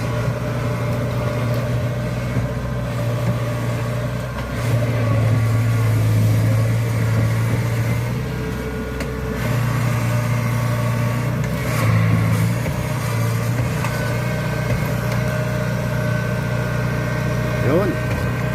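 A Kubota tractor engine rumbles steadily at harvest time, a low continuous drone that holds close and loud throughout, with people talking over it.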